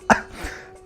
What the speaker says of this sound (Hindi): खांसी आ रही है मैम बहुत।